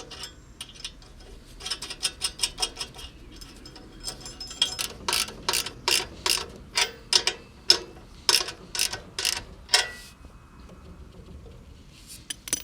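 A ratchet clicks in quick bursts while a second muffler is tightened onto a lawn tractor, close and crisp, with a rhythmic run of sharp repeated clicks, then pauses and a few final clicks.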